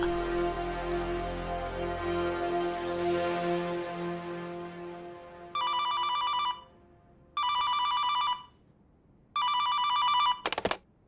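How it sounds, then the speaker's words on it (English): A house telephone in an anime story rings in three separate electronic trilling bursts with pauses between, following a fading musical passage and ending in a sharp click, clear and close. "Just then, the phone at Shinichi's house rang."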